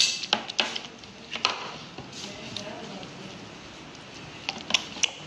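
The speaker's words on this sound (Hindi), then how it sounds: "अब हम इसको करेंगे अच्छे तरीके से मिक्स।" Spoon clinks and scrapes in a bowl as boondi and coriander are mixed for dahi phulki, with a cluster of quick taps at the start, then softer stirring, and more taps at the end.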